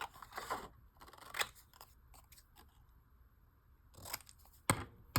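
Scissors snip through paper in a few crisp, separate cuts, close up, with quiet pauses between them.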